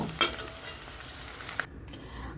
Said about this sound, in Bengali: আলুটা আমার ভাজা হয়ে গেছে, এবার এগুলোকে আমি নামিয়ে নেব।